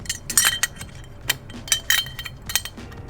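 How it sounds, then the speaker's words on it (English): A keg pressure relief valve and small stainless keg parts dropped into a Corny Cleaner keg washer, giving a series of sharp metallic clinks and rattles, several separate close impacts with quiet gaps between them and no talk. "remove the PRV. Drop it into the Corny Cleaner"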